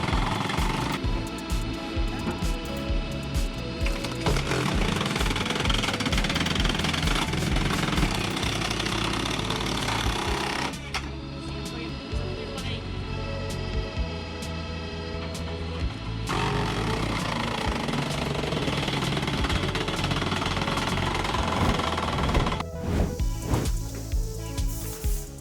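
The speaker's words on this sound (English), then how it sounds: "This machine is an 80-ton log splitter. It can split the log into 24 pieces at once." An 80-ton hydraulic log splitter works steadily for the whole stretch, a dense, loud mix of engine drone and grinding, crunching wood that varies in intensity but never stops.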